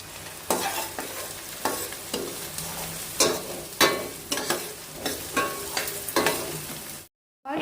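Onions frying with rock salt are stirred in a pan, a spoon scraping in regular strokes about twice a second over a light sizzle, close and alone, ending in a brief cut to silence.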